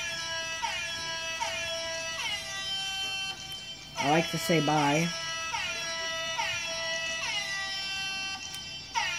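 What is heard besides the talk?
air horn sound in video outro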